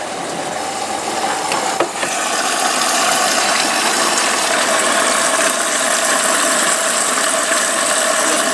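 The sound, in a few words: washing machine running a rinse and spin cycle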